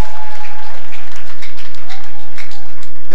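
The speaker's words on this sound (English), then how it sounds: "Can you clap those hands together for Jesus?" A church congregation claps their hands together in loud, dense, heavily compressed applause with a steady crowd roar and faint tonal sounds beneath.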